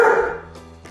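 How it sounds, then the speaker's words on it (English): Diabetes alert dog giving a single loud, close bark that fades quickly, with a faint trailing sound afterward. "And he keeps barking until help arrives."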